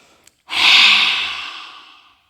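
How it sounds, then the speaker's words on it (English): One long, forceful yoga lion's breath exhale with the tongue out, a breathy rush that starts sharply and slowly fades, close and loud after a brief faint click. "now we've gotta do our lion's breaths because that's all about release"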